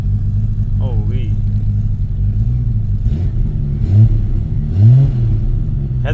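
A straight-piped 750 hp Nissan R32 Skyline GT-R with a sequential gearbox idles loud and close, rising in a couple of sharp revs as its exhaust valve opens, with someone talking excitedly over the engine.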